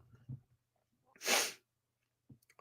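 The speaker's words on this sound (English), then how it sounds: "I just sneezed, by the way." A single sharp, loud sneeze bursts out close to the mic, with soft breathing and small mouth sounds just before and after in an otherwise quiet room.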